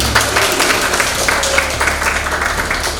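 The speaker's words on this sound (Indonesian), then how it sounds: "Itu tepuk tangan kita semua" A room of students claps together, a fairly loud, steady patter of hands filling three seconds with little talk.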